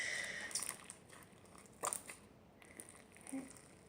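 Soft, close crunching and squishing of thick slime with beads inside being pressed by hand, with faint crackles and small pops, quiet throughout.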